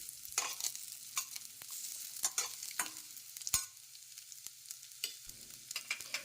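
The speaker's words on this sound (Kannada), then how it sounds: "ಈಗ ಇದಕ್ಕೆ ಈರುಳ್ಳಿ ಹಾಕ್ಕೊಂಡು ಹುರ್ಕೊಳ್ತೇನೆ." Onions frying in a little oil in a pan on a gas stove, a faint, low crackle with scattered sharp pops and stirring scrapes, close by with no voices.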